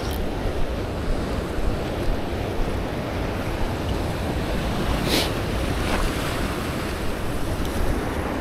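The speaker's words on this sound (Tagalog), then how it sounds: "Medyo pangit dito, malakas alon." Loud, constant rush of strong ocean surf and wind on a rocky shore at Browns Rock, New South Wales, with heavy wind buffeting the microphone and waves churning close by, no voices.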